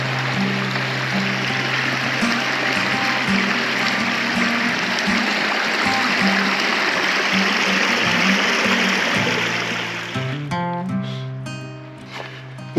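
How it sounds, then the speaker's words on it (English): Stover Creek on the Appalachian Trail in Georgia rushes with a loud, steady broadband wash that fades near the end as other sounds take over. "We just passed Stover Creek"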